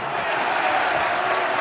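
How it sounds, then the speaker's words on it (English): Crowd at a Watford versus Millwall football match keeps up a steady, even wash of applause and cheering throughout, broad and continuous with no single voice standing out. "Listen to that applause."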